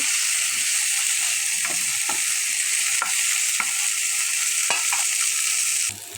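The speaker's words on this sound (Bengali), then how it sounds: "আমি এপাশে কচু ভাজি করছি" Steady, loud sizzling of taro pieces frying in hot oil, with occasional clicks and scrapes of a utensil; the hiss drops away near the end.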